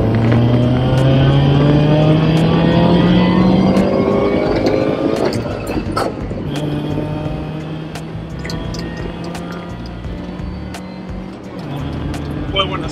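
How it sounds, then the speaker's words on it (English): A supercharged four-cylinder SUV revs out loudly, engine pitch climbing steadily, then drops as it shifts and pulls again through the next gear, with road and wind noise and voices talking over it. "I'm gonna try to let it rev out as long as I can, then try to shift it and see if I can get a better time."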